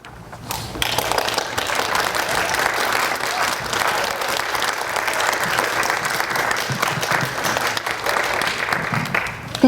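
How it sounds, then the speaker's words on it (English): Parents and guests at a kindergarten graduation break into lively applause and cheering, a crowded, steady patter of clapping that carries on for several seconds. "let's give ourselves a great big cheer"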